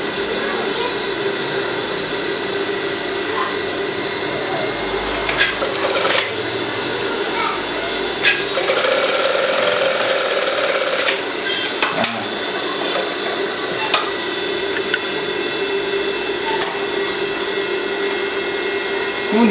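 A sewing machine stitches batik fabric, a loud ongoing mechanical whir and rattle with short bursts and pauses over a steady background hum.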